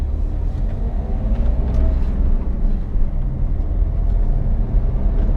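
A car driving at speed while shifting up into third gear gives a steady, loud in-cabin engine and road rumble, continuous throughout with no clear surge of acceleration.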